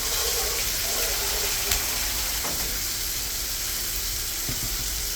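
Water is poured into a spice paste that has been fried in oil. It produces a strong, continuous sizzle and hiss of steam with a gushing edge, staying loud and even from start to finish.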